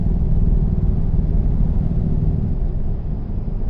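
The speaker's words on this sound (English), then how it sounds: "when I pull the lever here, that will activate the engine brake" Deep, steady engine rumble from a truck in American Truck Simulator with the engine brake engaged, a continuous loud low drone holding level throughout with no talk.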